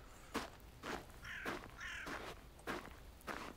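A crow caws in the video game Northern Lights, a series of about six harsh, evenly spaced calls heard fairly clearly over a low background ambience.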